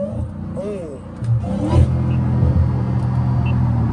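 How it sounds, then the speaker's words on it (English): A car engine rumbles and rises in pitch as the transmission downshifts on a Los Angeles freeway, heard from inside the cabin with a steady low drone of road noise throughout. "that was unnecessary downshift"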